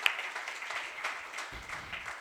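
An audience at a camp session in Yavatmal bursts into dense, continuous applause, a steady wash of many hands clapping at moderate loudness for a couple of seconds.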